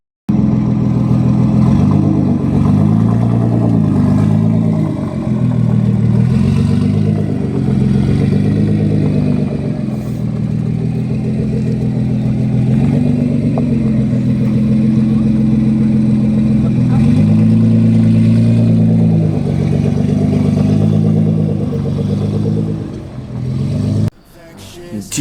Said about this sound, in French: la voiture juste précédente faisait un bruit mais de monstre